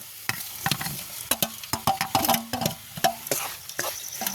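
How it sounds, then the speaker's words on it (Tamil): A spoon stirs and scrapes fried onions and chillies around a pan with a steady sizzle underneath. The knocks and scrapes are close and uneven, coming every fraction of a second. "இப்படியே நல்ல வடிவாக கிண்டுவோம்."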